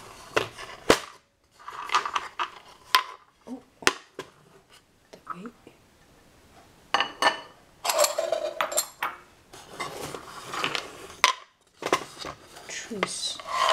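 Metal spoons rattle and clink in a spoon box during tea preparation, with sharp scattered jingles and clacks in irregular bursts separated by quiet gaps.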